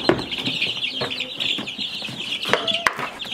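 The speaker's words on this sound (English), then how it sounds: "We gotta get the chicks outside first." Meat chickens raised on pasture cluck and chatter close by in a busy, uneven stream of short calls, with a few sharp knocks and rustles among them.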